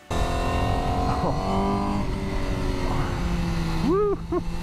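A 2020 Honda CBR1000RR SP sportbike being ridden, its engine a loud sustained drone with shifting pitch as revs change, climbing in a quick rising sweep near the end.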